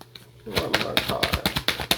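A card being drawn from a deck during a tarot-style reading: a rapid series of crisp clicks and riffles, like cards flicking and shuffling, close and fairly loud after a quiet start.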